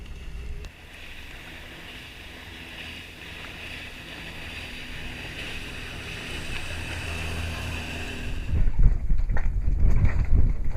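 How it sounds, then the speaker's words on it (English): A dinghy fitted with a 20 horsepower outboard motor runs steadily at sea, a continuous engine drone with water and wind noise that swells into louder splashing and rumbling toward the end. "That's why we have a dinghy with a 20 horsepower. It flies."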